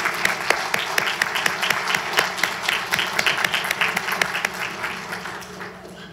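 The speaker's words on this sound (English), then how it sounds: "Let's clap for them, please." Audience applause for middle school spelling bee contestants, steady crisp clapping from a sizable crowd, dense at first and gradually thinning toward the end.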